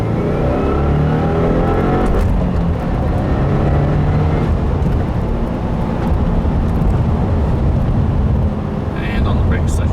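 A 2015 Subaru WRX, stage 1 tuned, accelerates hard on a pull, its engine roaring loud and steady throughout with road and wind noise, close inside the car.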